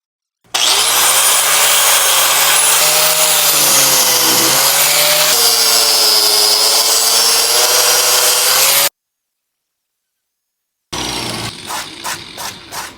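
An angle grinder with an old disc grinding hardened body filler on a rusty panel, a loud continuous high whine with shifting pitch, then silence and a second burst of choppy grinding.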